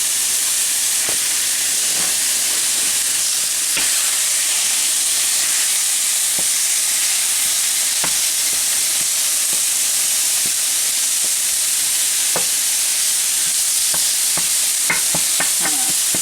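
Ground beef frying in a pan for cheeseburger-style skillet pasta, a constant hissing sizzle with scattered sharp clicks and scrapes as the meat is broken up.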